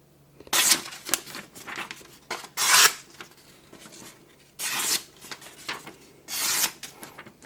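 A kitchen knife is drawn across a strop loaded with polishing compound after work on a 150-grit whetstone, giving four loud rasping strokes with fainter scraping between them, close and with no talk.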